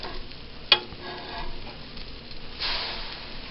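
Banana pancakes sizzle in a frying pan with a soft, steady frying hiss, a sharp click near the start and a brief swell of louder sizzling toward the end.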